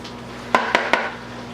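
A utensil knocks against a bowl while zucchini wrap filling is mixed, giving three quick, sharp clinks about a fifth of a second apart over a steady low hum.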